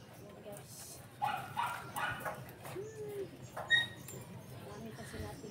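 A pet dog yips, whimpers and gives short barks in a cluster of brief calls close by, over a quiet household background with a person speaking nearby.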